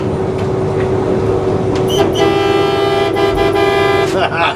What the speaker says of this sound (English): give me one more honk